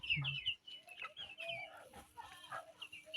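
Roosters and chickens cluck and call in a busy farmyard, with overlapping bird vocalizations close by and some background noise.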